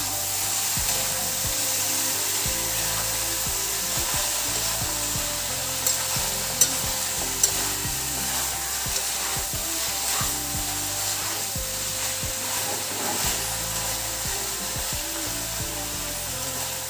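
Lechon paksiw sizzles steadily in a pan while being stirred, with close, continuous frying crackle and scraping, plus a few sharp utensil knocks around the middle; no one talks.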